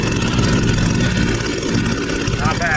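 A two-stroke weed wacker running on a 50-to-1 fuel mix fires up fresh out of the box after choking, its engine buzzing loud and steady close by with no gaps.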